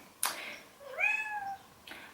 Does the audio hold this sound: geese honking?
no